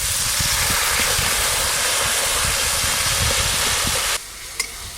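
Water poured into spices frying in a pan for a winter eggplant and dried taki fish curry, giving a loud, steady broadband sizzle for about four seconds before it suddenly drops to a quiet simmer with a small click.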